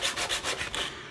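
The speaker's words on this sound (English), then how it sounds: "put the sandpaper on your bench in front of you and rub the block on that to get it" A wooden block is rubbed back and forth on sandpaper laid flat on a bench while building a robot character kit. Close, steady rasping strokes repeat about five times in just over a second.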